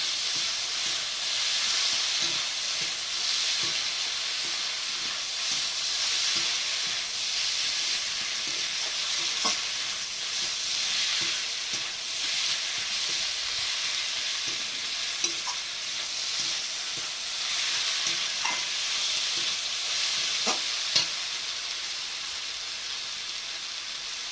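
Marinated chicken frying in a pan with green chilli paste gives a steady, loud sizzle, with a spoon stirring through it in scattered scrapes and light clinks over about twenty seconds, no voices.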